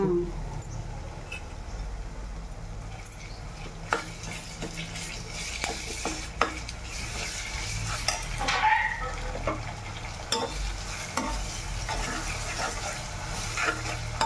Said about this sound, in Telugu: ఇది మొత్తం వేయించుకోవాలి. పచ్చివాసన పోయేదాకా వేయించుకోవాలి.